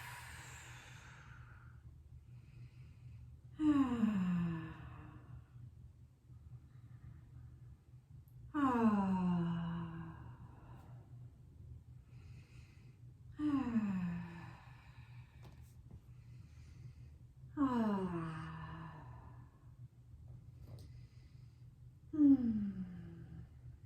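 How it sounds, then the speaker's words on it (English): Slow, deep breaths taken during an exercise stretch, with five long audible exhales spaced several seconds apart like relaxed sighs, close and clear over a quiet background. "And breathe."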